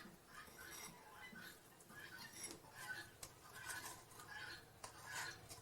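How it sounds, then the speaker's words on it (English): A spoon scrapes a homemade natural deodorant mixture into a small jar, giving repeated soft scraping and clinking strokes at close range with no talk. "I'm just using a spoon to kind of scrape it in there"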